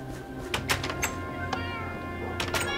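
Cats meowing in the Minecraft video game, several short, close meows scattered over a soft, steady game background, with no talk.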